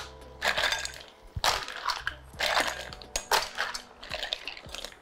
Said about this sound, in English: I'm gonna chuck in all of these mussels